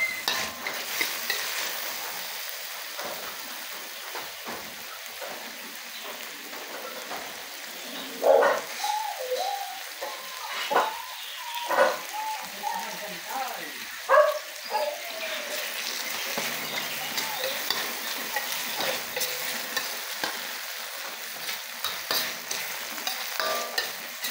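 Sliced tomato sautéing in a pan with chayote and shrimp, a soft steady sizzle broken by occasional louder stirring scrapes, with distant bird coos in the background.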